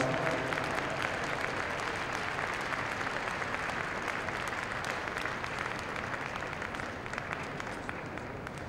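Audience at the Crufts dog show in 2002 applauds for a sustained stretch, dense steady clapping filling the hall at moderate level with no voices over it.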